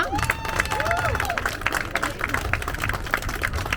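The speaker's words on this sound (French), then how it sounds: "Pour une belle main d'applaudissements." An audience at a farewell speech for a Quebec committee breaks into applause, dense clapping with a few whistles and cheers, steady and moderately loud throughout.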